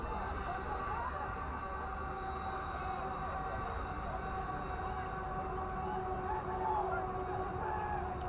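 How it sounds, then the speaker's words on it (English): A train rolls past Hart Park near a soccer match, heard as a steady, sustained rumble and drone with tonal hum across the whole stretch, fairly even in loudness and continuous throughout. "that's a famous Hart Park train making its way by"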